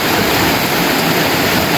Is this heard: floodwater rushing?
yes